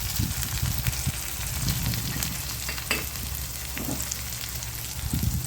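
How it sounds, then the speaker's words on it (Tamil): Tomatoes sautéing in a pan for a Tamil dried-fish (karuvadu) thokku: steady, close sizzling and crackling with occasional stirring scrapes, loud and continuous with no talking. "தக்காளி நல்லா வதங்கிடுச்சு."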